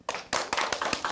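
Audience clapping to welcome Seoul mayoral candidates at a Democratic Party by-election event, heard as a brief burst of sharp, fairly close hand claps in quick irregular succession with no voices.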